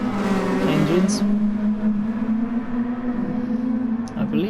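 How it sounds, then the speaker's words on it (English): A Group 2 race car engine in a racing video game, at the St Croix circuit, drones steadily at high revs with an aggressive tone, with brief pitch dips as it shifts, loud and close throughout. "Do make fantastic noises, these Group 2 cars. Really aggressive sounding engines."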